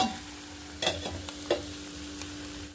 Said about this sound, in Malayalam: കാബേജ് വേവുന്നുണ്ട്